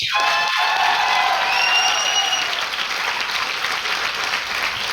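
Loud, dense applause from a large audience at a business training event, sustained clapping with a few scattered cheers and faint whoops mixed in.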